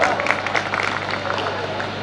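Audience clapping at a Hindi kavi sammelan poetry recital, a brief continuous wash of many hands applauding together, fairly loud and dense throughout.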